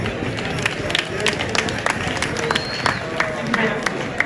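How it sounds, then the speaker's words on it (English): A gala audience applauds a speaker, scattered claps and a few sharp hand hits over a murmuring crowd, with voices talking and chatter mixed in the room throughout. "Let's give Alex a round of applause"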